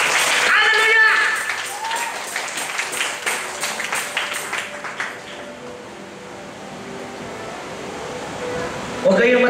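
A church congregation claps in praise, a brisk burst of many hands that rises loud at first, then thins into scattered claps and fades, with a voice speaking over it.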